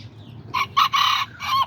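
A rooster kept among backyard kikiriki and Azteca chickens crows in several loud, close bursts, the call rising and breaking into a drawn-out final note over a quiet yard.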